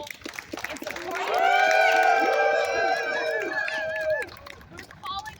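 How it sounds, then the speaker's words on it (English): A rally crowd in New York lets out loud, sustained whoops and cheering shouts that rise and hold for a couple of seconds, with scattered claps underneath and a voice at the end. "So let's give a round of applause for everyone who has played a role in supporting"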